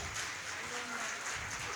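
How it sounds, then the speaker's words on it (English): Audience applause at a kindergarten graduation ceremony, a steady wash of clapping that holds evenly throughout at a moderate, somewhat distant level, with faint voices underneath. "Please give a big round of applause."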